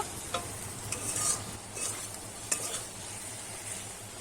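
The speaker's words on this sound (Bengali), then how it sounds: "এবারে ভালো করে কিন্তু আমি একটু কষিয়ে নেব" Potatoes and curry masala for a soybean dhoka curry being stir-fried in a pan, with a steady low sizzle and a few sharp scraping stirs of the spatula against the metal.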